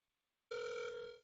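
A single electronic telephone ring sounds on an outgoing call, one clear tone burst of about three-quarters of a second, close and alone after near silence.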